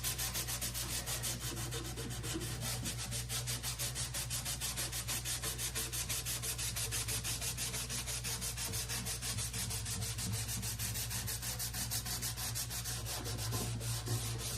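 A wooden whiskey barrel being rubbed by hand with finish, working along the grain in fast, steady back-and-forth strokes that make a continuous close scratchy rhythm, no talking.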